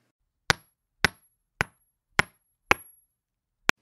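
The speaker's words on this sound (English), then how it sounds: "Using a hammer, the men dug a well by hammering down through the coral reef" Six sharp, evenly spaced metallic hammer strikes, each ringing briefly, chip down through coral reef to dig a well on a remote island; the blows are close and clear with silence between them.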